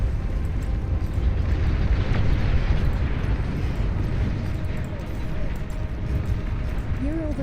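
A big explosion as an enemy commander is destroyed in the strategy game Beyond All Reason, a loud sustained rumbling roar with low boom lasting throughout, with faint tonal game effects near the end.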